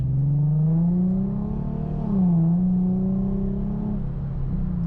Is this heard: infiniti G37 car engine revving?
yes